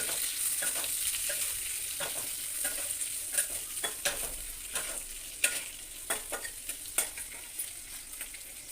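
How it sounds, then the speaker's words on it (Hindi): Onions frying in a pan with a constant soft sizzle, broken by repeated spatula clicks and scrapes that grow busier toward the end. The sound is close and fairly quiet, with no speech. "तो प्याज पकईवा,"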